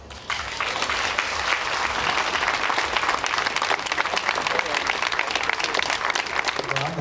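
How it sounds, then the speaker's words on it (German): Sustained audience applause at the opening ceremony of the Breisach wine festival, a dense, steady clapping from a large crowd that starts abruptly and keeps going at an even level for several seconds. "Und jetzt frenetischer Applaus."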